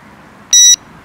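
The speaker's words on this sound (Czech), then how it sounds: "signalizátor jednou pípne" Fishing bite alarm from a New Direction bite alarm set with Bluetooth connectivity, giving a single loud, short electronic beep as the mute button is held, alone against faint background noise.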